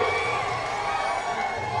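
A large crowd at a Congress party rally in Kalaburagi roars with steady cheering and applause, a dense continuous wash of voices filling the space without a break.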